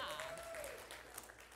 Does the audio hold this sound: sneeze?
no